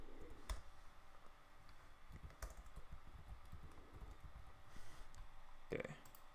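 Quiet, close typing on a computer keyboard: scattered soft key clicks and a few sharper taps, with a faint background hum.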